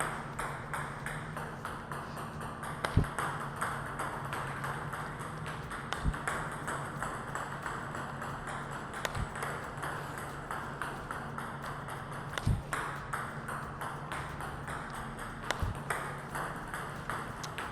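Table tennis serves played with a Glayzer 09C rubber: six crisp ball taps land roughly every three seconds over a steady, low room hum, with no talking.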